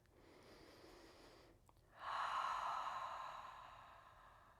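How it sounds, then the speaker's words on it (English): One long, audible yoga cleansing breath: a softer breath is followed by a fuller, airy exhale that swells and then slowly fades in a quiet room. "Cleansing breath."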